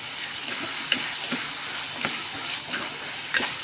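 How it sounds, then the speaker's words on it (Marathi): Prawns are stirred into a simmering fish curry gravy in a pan, giving a close, steady soft sizzle and bubble broken by light scraping clicks from the spoon. No voices are heard. "आणि आता ही कोलबी मी त्याच्यात घालते"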